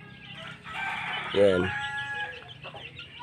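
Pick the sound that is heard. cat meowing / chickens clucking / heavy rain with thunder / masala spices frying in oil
chickens clucking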